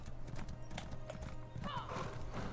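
A horse gallops in The Elder Scrolls Online with a rapid, steady clip-clop of hooves throughout, joined by a brief whinny near the end, while someone talks quietly over it.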